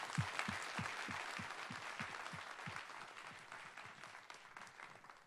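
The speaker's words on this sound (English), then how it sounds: "Let's give one last round of applause for Chris and John." A room of attendees at an Airbnb analytics and experimentation tech talk claps for two presenters, a faint, distant, steady patter that slowly tapers over about five seconds.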